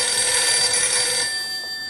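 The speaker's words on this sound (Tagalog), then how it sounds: "tinawagan ko si Pito." A telephone rings with a bright, sustained electronic trill, close and loud, fading slightly toward the end.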